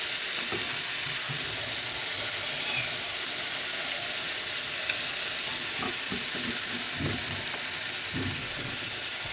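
Spiced fish pieces frying in hot oil in a home kitchen, a continuous soft sizzle with occasional stirring scrapes and bubbling bursts, fairly quiet and steady with no talking.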